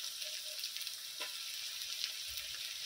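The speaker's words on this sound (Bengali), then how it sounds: "রসুনটা আমি পেঁয়াজের সঙ্গে কিছুক্ষণ নেড়ে নিয়েছি।" Garlic, onion and ginger paste sizzling in hot oil as it is stirred, a steady close broadband hiss with a few soft scraping strokes and no talk.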